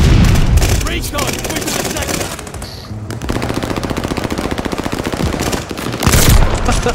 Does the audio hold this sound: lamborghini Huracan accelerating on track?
no